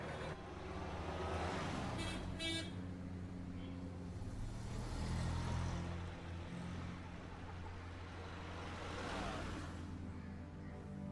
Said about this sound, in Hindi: चलो जल्दी चलाओ गाड़ी।